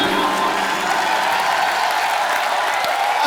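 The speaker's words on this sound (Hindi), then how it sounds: "जॉन और सोनाक्षी के लिए जोरदार तालियां" A studio audience on a comedy talk show applauding loudly for guest stars, a dense, steady wash of clapping with a few cheers and whoops running evenly through the whole stretch, no speech over it.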